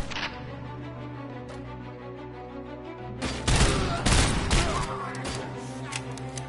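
Gunfire in the video game Robocop: Rogue City, a burst of loud, close shots and bangs over a steady music bed, heavier in the second half.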